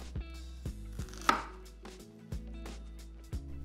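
A knife chops green onions into sections on a board, making about seven or eight distinct close thuds at an uneven pace, with one sharper clack partway through.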